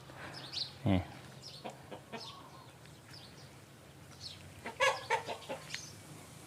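Fighting cocks on a farm give scattered clucks and short squawks, some close and sharp, others softer in the background, over a quiet outdoor hum.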